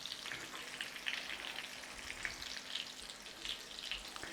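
Thin pork cutlets for tonkatsu frying in oil, a soft continuous crackling sizzle with fine popping, fairly faint and steady with no voices.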